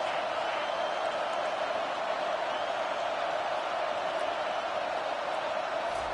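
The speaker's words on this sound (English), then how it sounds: "It is getting loud as this crowd tries to help its defense" Steady roar of a stadium crowd in an NCAA 25 college football video game, loud and continuous as fans make noise to help the defense, with no distinct breaks throughout.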